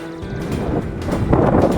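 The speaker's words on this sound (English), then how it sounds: "It is super windy right now." Strong wind roars and buffets a microphone in steady broadband gusts while cycling down a mountain pass in South America, loud and continuous for the whole stretch with no speech.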